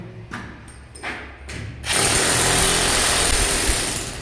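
A power tool fitted with a bit, used during house wiring work, starts after a few short taps and then runs continuously, loud and close, with a steady broadband whine until the end.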